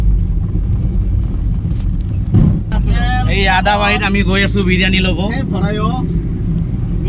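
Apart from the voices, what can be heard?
car driving along the road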